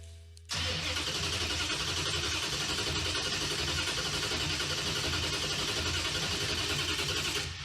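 An old budget beater car engine turns over and cranks steadily and loudly, a dense continuous mechanical churn that starts abruptly after a short quiet moment and carries on to the end without speech.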